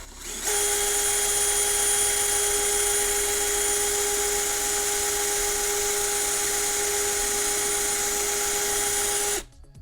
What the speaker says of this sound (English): I've just got a coarse sanding stick here, and see if we can't just smooth this over.